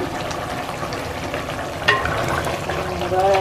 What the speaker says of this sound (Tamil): நல்லா இப்படி கொதிக்குது.